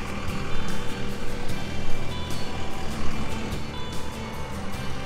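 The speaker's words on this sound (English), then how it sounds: "Loud truck." A loud truck rumbles past a campground of water and electric back-in sites beside a craft brewery, its engine noise heavy and continuous for several seconds, swelling and easing as it goes by.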